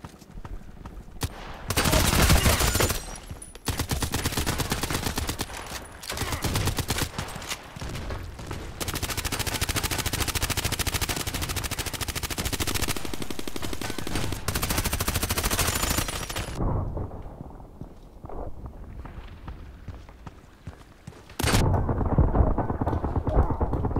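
Heavy, sustained automatic gunfire from the video game Contract Wars during an indoor fight, loud dense bursts with short pauses, dropping away to quieter sporadic shots before a final burst.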